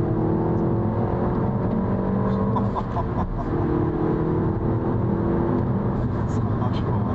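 A Peugeot 308 GTi's 270-horsepower engine roars steadily under hard acceleration with rising whine, loud and close from inside the car, while someone talks over it.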